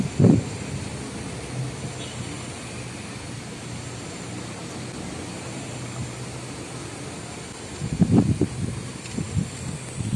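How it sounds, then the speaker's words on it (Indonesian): Strong outdoor wind roars steadily into the microphone for about ten seconds, a broad rushing noise with louder buffeting gusts near the start and again toward the end. "Ini angin ini cukup kencang ya."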